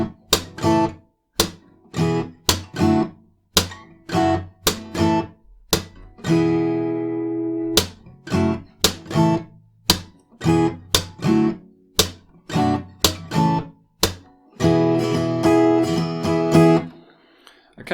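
An acoustic guitar plays the verse pattern of a song: rhythmic strums punctuated by sharp percussive thumb slaps, a syncopated pattern with brief pauses and a sustained chord near the end.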